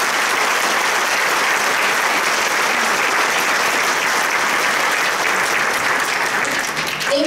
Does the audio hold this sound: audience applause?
yes